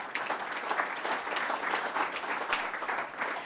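Sustained applause from an audience at a USF Morsani College of Medicine event celebrating a construction project, a dense, steady wash of many hands clapping at close range with no voices standing out.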